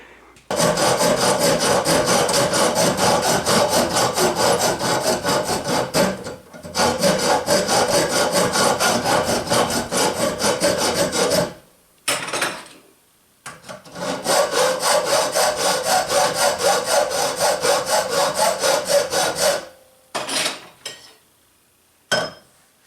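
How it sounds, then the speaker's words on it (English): A bandsaw clamped to a table cuts a metal dune buggy part, giving two long stretches of steady, loud rasping cut, each followed by brief bursts and then silence. "I got my bandsaw clamped to the table here."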